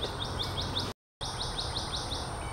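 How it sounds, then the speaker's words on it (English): Birds chirp outdoors in a repeating series of short, bright, evenly spaced calls, moderately loud over a steady background, broken by a brief gap of silence partway through. "You hear the bird? Couple birds."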